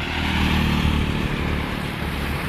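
Motorbikes stream past in busy street traffic in Phuket, a steady, loud engine drone with rising revs and no pauses, close by throughout.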